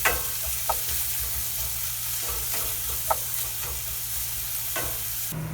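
Onions sweating in a pan inside a camper van, a steady soft sizzle with occasional spoon clicks and stirring scrapes, close and unbroken by talk.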